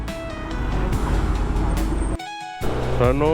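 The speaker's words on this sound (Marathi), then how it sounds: "ट्रक आहेत सगळे, ट्रक येतात." Trucks in heavy Kashmir traffic, a loud, close diesel engine rumble with a brief hiss of air brakes and a horn-like tonal blare near the end.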